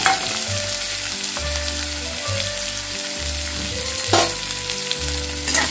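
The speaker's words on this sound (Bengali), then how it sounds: "পেঁয়াজটা দেওয়ার পর ভালোভাবে এটা ফ্রাই করে নিতে হবে।" Chopped onion fries in a pan with a constant crackling sizzle, broken by several scraping stirs and a low rumbling hum that cuts in and out, close up and with no voices.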